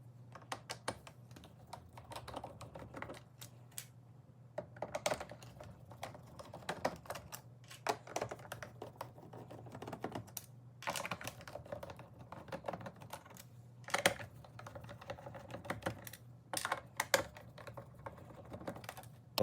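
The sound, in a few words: unscrewing Phillips head screws on a Roborock robot vacuum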